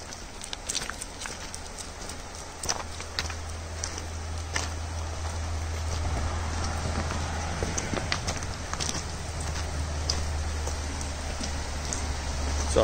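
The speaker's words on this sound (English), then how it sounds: "Perfect timing. Here comes some rain." Rain begins pattering on a forest horse trail, a steady soft hiss of drops with scattered sharper taps, while a low constant rumble sits underneath and no one speaks.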